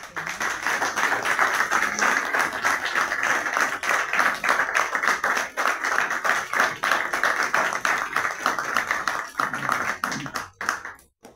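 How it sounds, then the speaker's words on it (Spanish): An audience at an evening event in Barranco applauding artist Víctor Delfín, lively clapping with distinct individual claps that surges and dips before thinning out toward the end. "queremos pedirles a ustedes un fuerte aplauso para Víctor Delfín"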